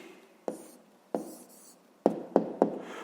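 Pen on paper writing out an answer to a fifth-grade maths exercise: five short, close scratchy strokes in uneven bursts, alone in a quiet room.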